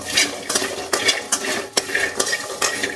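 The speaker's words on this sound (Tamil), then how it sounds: "இந்த மாதிரி போட்டு வறுத்துக்கலாம்" Ingredients for a fermented onion garlic pickle being dry roasted in a pan on the stove, with steady scraping and stirring, clinks of a utensil against metal and a faint crackle throughout.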